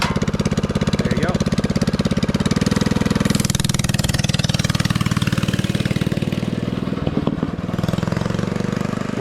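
Motorcycle engine fitted with an aftermarket exhaust pipe runs loud and steady, a rapid throbbing idle with a brief blip of revs near the end, close by with no talk.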